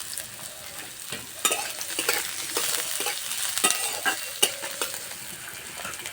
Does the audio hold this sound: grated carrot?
yes